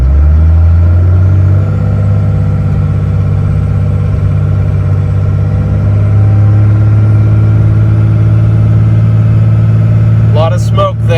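A 2002 Cummins Ram diesel pickup with transmission trouble drives and shifts, its deep engine drone loud and continuous with a pitch change as it shifts, and a few brief sounds near the end.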